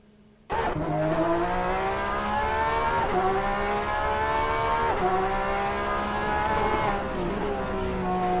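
A Porsche GTE race car engine in a racing game at Shanghai International Circuit, bursting in loud and near and holding a steady high rev with rising pitch sweeps at each gear change.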